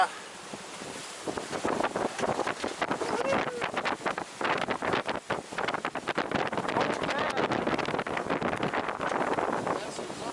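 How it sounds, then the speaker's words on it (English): Wind gusting over a sailboat heading out to Kvitsoy Island, a constant rushing buffet broken by rapid flutters of microphone wind noise throughout. "I think we found some wind."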